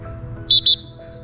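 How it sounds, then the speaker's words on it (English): A soccer referee blows a whistle to confirm a substitution, giving two short, sharp, high blasts in quick succession, close and loud over faint background hum. "If you're really far away, you can also blow the whistle to confirm a sub by going like this."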